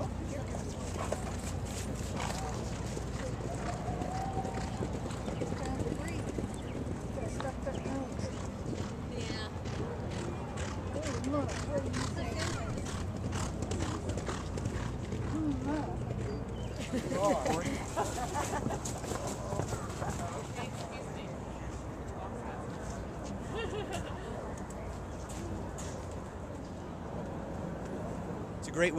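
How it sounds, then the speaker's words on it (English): Steady hooves clip-clop on a dirt track at Churchill Downs in early morning, several horses moving at a brisk pace, set against a busy outdoor background with distant murmuring voices. "the clip-clop of horses' hooves on the track"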